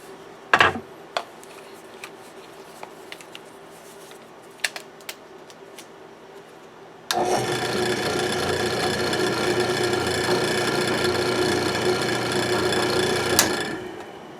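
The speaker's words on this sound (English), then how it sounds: "I might see how it feels with the drum sander" Following a few sharp taps, a drum sander switches on midway and runs steadily with a continuous abrasive whir, shaping flutes into the wooden stock of a Remington 7400 rifle.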